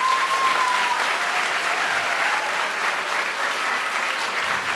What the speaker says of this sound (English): One more round of applause for our artists today.